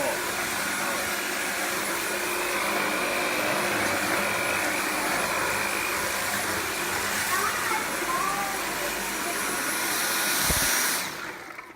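A Dyson V7 cordless vacuum cleaner runs at maximum power, a loud, steady motor whine with airflow rush held for about eleven seconds before cutting off near the end.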